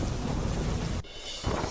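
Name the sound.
heavy rain with thunder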